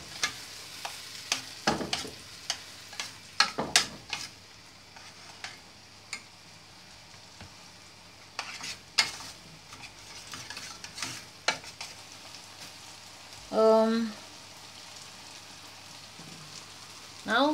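Mushrooms with onion and salt stirred in a pan, spatula scrapes and knocks coming in irregular bursts over a quiet sizzle, with a brief clatter near the end.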